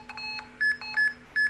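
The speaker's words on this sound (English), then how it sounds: "this beep indicates that there's a bus stop sign is recognized" A low-vision navigation aid beeps to signal that a bus stop sign is recognized: a series of short, clear electronic tones at a fairly quick, even pace over quiet background.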